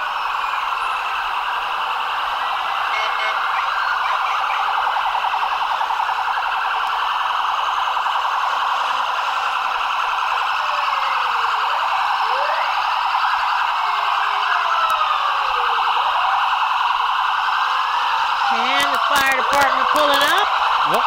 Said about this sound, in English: Greeted by more of the lights and the sirens.